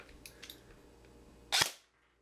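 Airsoft FMG4 fired over a chronograph, with a few faint mechanical clicks followed by one sharp, loud pop of a shot that cuts off quickly.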